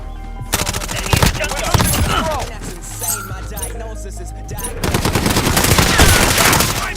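Rapid automatic gunfire in a video game rattles in loud sustained bursts, near and dense, easing briefly midway before resuming hard, with some voice underneath.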